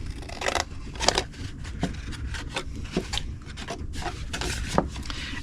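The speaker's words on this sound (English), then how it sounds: "Go to the next score line, cut it to the first score line" Scissors snip paper cardstock along score lines for a favor box, giving a series of short, close, crisp cuts mixed with light rustling and rubbing of the paper, with no speech.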